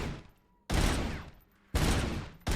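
Robocop's automatic gun in Robocop: Rogue City, three loud bursts of rapid fire, each cut off abruptly, separated by brief quiet gaps.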